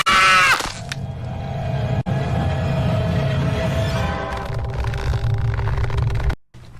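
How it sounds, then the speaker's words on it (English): A recorded woman's scream plays loudly from a computer for several seconds, a sharp high shriek at the start, then a sustained harsh noisy roar until it cuts off abruptly. "Do you want to hear her scream?"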